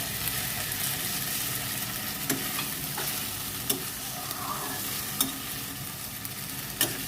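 Ginger, garlic, dried chilli and turmeric paste fry in a pan after a splash of water goes in, a steady close sizzle with a few sharp spatula taps and scrapes.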